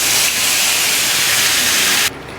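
Ground rose chutney poured into hot oil with mustard seeds and curry leaves, giving a loud, close, steady sizzling hiss that runs about two seconds and then drops off sharply.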